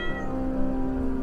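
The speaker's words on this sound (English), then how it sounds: "I have two female cats." A female cat gives a single sustained meow, close and clear, lasting about a second with no voices around it.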